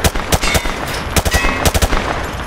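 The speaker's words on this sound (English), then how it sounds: "Grab that weapon off the table and fire at the targets behind you." Rapid bursts of gunfire as a weapon is fired at targets in Call of Duty MW2 Remastered, loud sharp cracks in uneven clusters with brief gaps between volleys.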